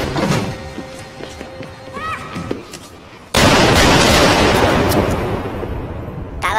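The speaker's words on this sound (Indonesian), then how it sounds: "Arthur kali ini memutuskan untuk melawan dengan menembak mereka semua" Gunshots in the 2019 film Joker as a man shoots several men: quieter film sound gives way midway to a sudden, loud, sustained blast of broadband noise that fills the rest of the scene.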